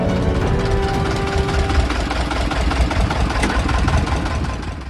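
A motorised wooden ferry boat's engine runs at a steady, loud, close drone with a rough, knocking chug on a swollen river near Hajo, with no voices over it.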